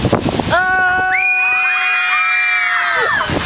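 An audience at a book reading in Chicago breaks into a loud, sustained collective scream with high overlapping voices, rising together and holding for a few seconds before trailing off.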